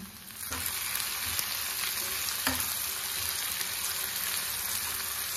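Chopped tomato goes into onions frying in a pan, and a loud, continuous sizzle follows, with a couple of sharp bursts as pieces hit the hot oil.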